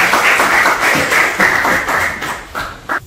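An audience at a poetry recital claps for a poet being welcomed to the stage, a brief round of applause that thins into a few scattered claps before stopping.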